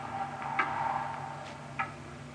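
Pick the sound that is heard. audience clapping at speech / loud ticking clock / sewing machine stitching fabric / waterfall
loud ticking clock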